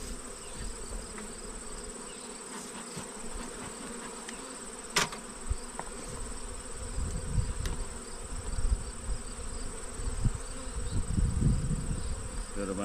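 Honeybees buzz steadily around an opened backyard hive during an inspection, a dense, continuous insect drone up close with occasional louder passes and faint handling noises.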